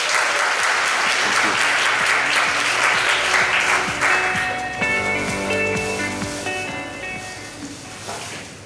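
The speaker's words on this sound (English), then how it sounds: "we can give them a round of applause" Audience applause at an indoor conference, loud sustained clapping that gradually thins and fades toward the end, with faint voices and stray sounds underneath.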